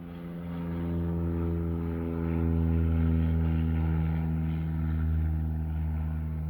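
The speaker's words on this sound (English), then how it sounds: "let the little crop plane go around" A small crop duster plane drones loudly overhead with a deep, steady propeller engine hum that swells and fades slightly as it circles, with no talking.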